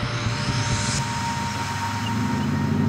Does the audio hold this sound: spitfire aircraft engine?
yes